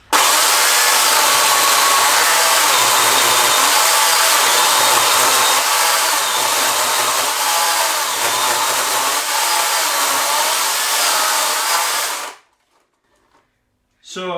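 A corded Makita UC3041A 12-inch electric chainsaw rips lengthwise along the grain of a wood log, a loud, steady high-pitched whine and chain rasp held for about twelve seconds before cutting off abruptly, then a brief restart at the end.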